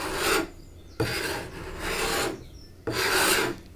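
Hand sanding of an old homemade wooden table with sandpaper: four close, rhythmic rasping strokes separated by short pauses, with no voices.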